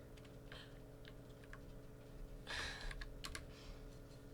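Numbers are tapped out on a computer keyboard during a Nancy Drew game, giving quiet, scattered keystroke clicks with a brief flurry of taps in the middle and no talking.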